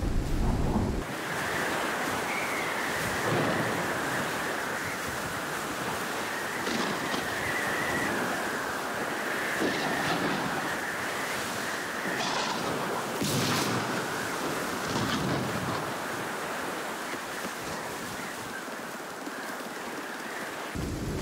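Storm wind and crashing surf near a shoreline in the survival game Icarus form a steady, loud roar with rolling wave surges and gusty hiss throughout, with no talking.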